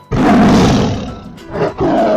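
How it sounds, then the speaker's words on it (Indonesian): A tiger roars loudly and close by, first in a long, rough, sustained roar, then a brief pause and a shorter second roar. "Harimau teman-teman."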